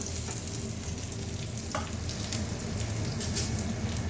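Prawns frying in oil with curry leaves for Indian-style egg fried rice, making a close, continuous crackling sizzle with fine popping over a few seconds, with no talking.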